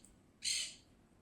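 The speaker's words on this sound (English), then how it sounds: "I hear the birds. I wonder if you hear them too." A single short, sharp bird call outdoors, faint and distant in an otherwise quiet background.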